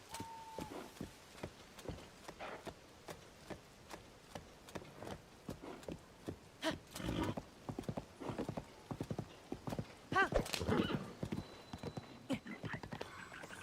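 Horse hooves clop steadily at a walk in the video game Tears of the Kingdom, then quicken, with a whinny near the middle and a soft whispery voice under the rhythm.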